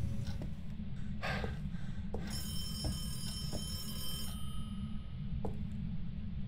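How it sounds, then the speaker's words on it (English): An old telephone bell rings in the ghost-hunting video game Phasmophobia, a sustained metallic ring sounding for about two seconds amid scattered clicks and a constant low rumble. "Yeah, you're ringing the bell."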